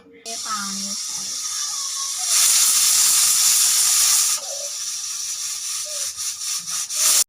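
Chickpeas boiling with salt and turmeric in a pressure cooker give off a steady, close hiss of steam that swells louder midway and then eases. A voice murmurs briefly at the start.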